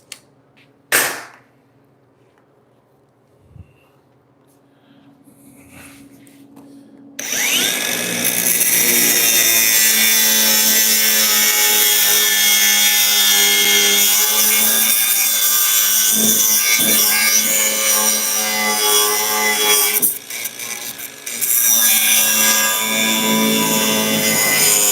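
Hand saw cutting through a 1938 Cadillac cowl panel in a workshop, a steady loud rasping stroke that runs on for about seventeen seconds after a few quiet knocks and handling sounds.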